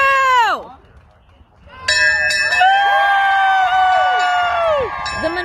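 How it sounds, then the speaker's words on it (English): A hospital bell rung to mark leukemia remission rings with bright, sustained metallic tones that overlap and ring out, amid crowd noise and cheering after an earlier rising and falling call. "waited more than 2 years to hear that bell ring"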